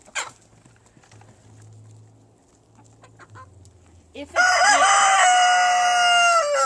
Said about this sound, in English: let the chickens on out. And they're usually very excited to come out in the morning